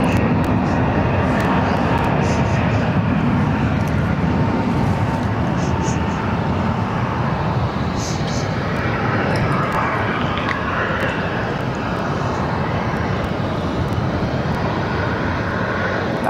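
Airliners departing from Barcelona airport on parallel runways, heard as a steady, loud broadband jet engine roar that holds for the whole stretch with a distant, rumbling quality.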